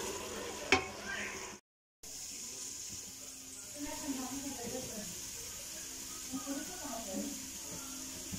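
Chickpeas frying in a pan and being stirred, a steady soft sizzle with occasional scraping, close by, while someone talks over it.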